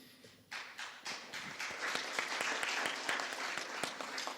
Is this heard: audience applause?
yes